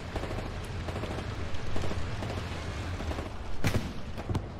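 Gunfire in the World War II shooter Hell Let Loose, a dense crackle of shots and bursts with one loud nearer report and a few sharp cracks standing out.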